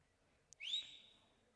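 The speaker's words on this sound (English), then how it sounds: "not fazed by a whistle from a fan" A fan in the stands at a girls basketball game blows one sharp, rising whistle, short and fairly distant, over a quiet gym.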